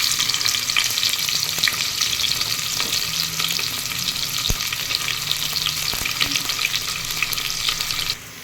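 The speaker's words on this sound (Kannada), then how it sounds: "ಸ್ಪೈಸಸ್ ಹಾಕಾದ್ಮೇಲೆ ಈಗ ಈರುಳ್ಳಿ ಹಾಕ್ಕೊತಾ ಇದ್ದೀನಿ" Onions sizzling in hot oil with spices in a pan, a steady dense crackle with occasional stirring clinks, close and continuous, ending abruptly.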